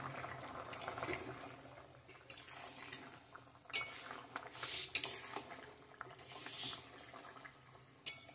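An egg and potato curry simmers and bubbles in a pot with a steady liquid boiling texture, punctuated by sharp metallic clinks and taps of utensils against cookware, close and fairly quiet, without talking.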